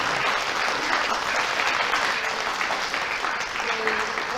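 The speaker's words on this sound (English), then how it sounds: "Can we get a round of applause for them?" Warm, continuous applause from an audience at an Ohlone College Phulkari event thanking the organisers, a dense, close wash of clapping with faint voices underneath toward the end.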